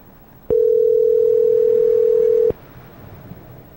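A telephone on a call gives one steady, loud, pure electronic tone lasting two seconds, starting and stopping abruptly against a quiet background with no talking.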